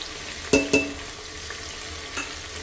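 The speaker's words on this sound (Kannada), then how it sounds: "ಟೊಮ್ಯಾಟೊ ಕೂಡ ಸ್ವಲ್ಪ ಫ್ರೈ ಆಗಲಿ" Tomato and mixed vegetables frying in a pan for veg pulao give a low, steady sizzle, with two sharp spoon scrapes near the start and softer stirring knocks later. No one speaks.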